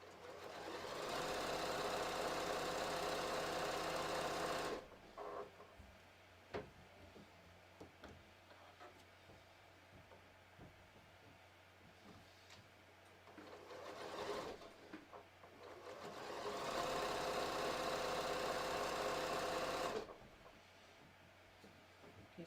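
A sewing machine stitches a reinforced crotch seam on yoga pants with stretch thread, running in a loud steady rapid whir for several seconds, pausing amid quiet handling noises, then starting up again in two more bursts.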